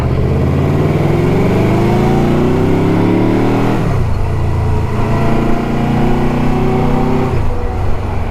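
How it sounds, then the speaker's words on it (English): An 800-pound Yamaha touring motorcycle cruises on the highway, its engine droning loud and close. The pitch climbs steadily through the gears, drops at a shift and climbs again, with wind rushing underneath. "Let's show everyone what this little 800-pound, very ginormous motorcycle can actually do"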